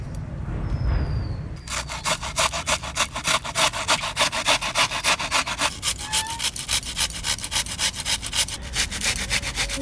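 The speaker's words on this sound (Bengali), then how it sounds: "এই ঘষণিটা দিয়ে আমি একটু ঘষে নেব।" Giant taro stems being grated by hand on a grater: after a short pause, close, brisk rasping strokes repeat in a fast, steady rhythm, each scrape rough and scratchy, continuing to the end.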